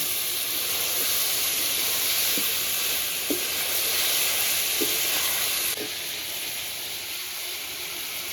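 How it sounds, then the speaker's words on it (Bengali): Eggs, potatoes and vegetable stalks frying together in a pan for curry give a steady, close sizzle with soft hissing and a few faint clinks of stirring. "এবার ডিম আলুটা দিয়ে দেবো এবার ভালো করে ডিম আলুটার সঙ্গে পেকলি ডাটাটা কষিয়ে নেব"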